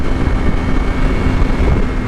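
A Yamaha R6 sport motorcycle under way with a steady loud engine roar mixed with heavy wind rush, with no distinct rise in revs.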